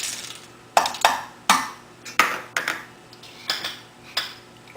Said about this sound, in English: And then stir together until it's smooth.